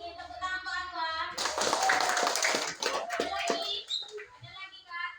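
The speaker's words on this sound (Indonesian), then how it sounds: "ada lagi yang ingin tepuk tangan" Hand clapping in a classroom, a short burst of children's applause that swells after a moment and fades, with kids' voices and chatter mixed in before and after.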